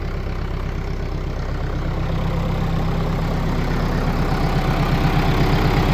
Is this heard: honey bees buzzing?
no